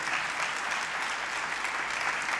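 Part of the audience at a forum on emancipation and equality applauds a political remark, a steady wash of clapping, moderately loud and continuous throughout.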